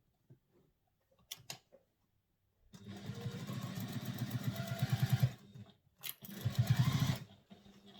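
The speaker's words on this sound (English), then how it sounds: "I'm going to sew these two together again using seam allowance given." A sewing machine stitches two thick handbag pieces together along the seam allowance, running in two close, steady bursts, a longer one and then a shorter one, with short mechanical clicks beforehand.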